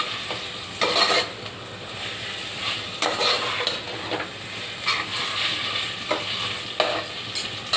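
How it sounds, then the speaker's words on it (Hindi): Ginger garlic paste sizzles in a pan for lemon coriander rice while a spoon stirs and scrapes in intermittent strokes, close and steady, with no voices. "और साथ में 1 बड़ा चमचा भर के अदरक लहसुन का मैं डालूँगी।"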